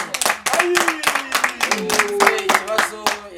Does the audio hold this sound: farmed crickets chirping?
no